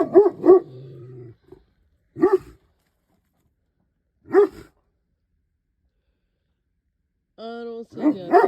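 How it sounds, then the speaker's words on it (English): A farm dog barks outdoors at coyotes in freezing weather, short separate bursts with long quiet gaps between them, close and loud, with a brief whine or growl. "Where are you barking at?"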